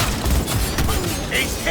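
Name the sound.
gunfire in the video game Cyberpunk 2077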